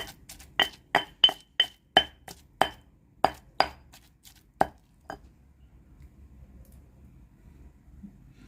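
Tilapia fish flesh is pounded in a mortar for Thai noodle fish curry, about a dozen sharp, crisp strikes in an uneven rhythm, close and loud, then fading into quiet background, with no talking.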